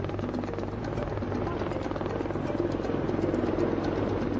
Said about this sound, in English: A helicopter is the only option to get him to a hospital.